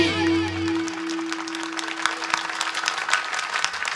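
An audience at a Marathi kirtan devotional gathering claps in a steady burst of applause that carries on throughout, following a brief held tone at the start.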